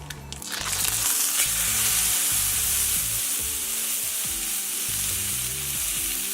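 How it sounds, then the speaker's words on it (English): Beef hitting a hot pan bursts into loud, continuous sizzling and crackling frying, with occasional utensil scrapes and knocks as the meat is moved around, all close up and without talk. "We're now going to add the beef to the pan."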